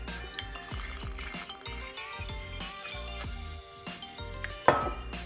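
Vodka poured into a measuring jigger or glass while making a Long Island Iced Tea, a close liquid trickle with small clinks and drips, heard alone without talk.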